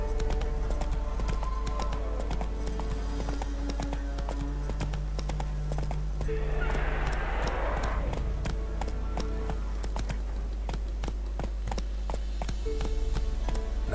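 Roach, a horse in The Witcher 3 game, gallops with a continuous quick clip-clop of hooves over a low steady rumble, with a brief rushing burst partway through and music running underneath.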